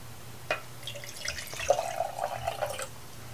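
Water poured into a jar holding a tablespoon of baking soda, a soft trickling and splashing stream heard up close, with a brief knock at the start and no talking.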